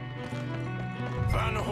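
Horses in the video game Red Dead Redemption 2, with hoof clip-clop and a possible whinny near the end, heard under a steady game score and background voices.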